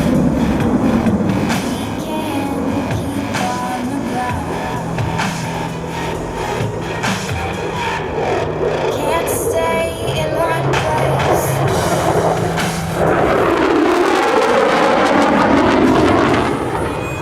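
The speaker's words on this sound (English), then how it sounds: "prepare for Freedom's Thunder on the high-speed pass." A USAF F-22 jet makes a high-speed pass at an air show, its loud roar rumbling continuously and then swelling into a sweeping, overwhelming rush near the end.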